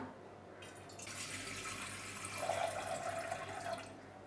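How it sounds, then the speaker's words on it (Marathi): Water pours into a metal pot, a bright splashing stream starting after a moment and rising in pitch as it fills, fairly close and quiet. "तर मी इथे पातेलं घेतलेलं आहे तर यामध्ये आपण पाणी घालूया"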